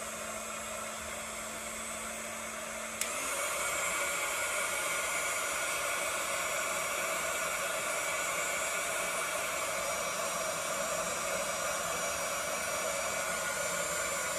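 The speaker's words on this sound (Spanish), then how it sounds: "yo tengo esta pistola que es de la marca Sizzix. Entonces lo único que hacemos es prender" A Sizzix heat embossing gun switches on and blows a loud, steady whooshing hiss, drying watercolor and highlighter pages in a bullet journal; the airflow jumps up in strength after a few seconds and then holds constant, close and unbroken.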